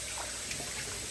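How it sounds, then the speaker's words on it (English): Water drains from a kitchen sink after oxtails are washed, giving a brief, continuous trickling wash at moderate level with no voices. "I'm going to drain that water off"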